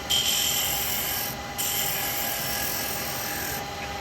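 A chisel cuts laburnum wood spinning on a lathe for a small lidded box, giving a steady close rasping, scraping hiss that eases briefly midway and then resumes.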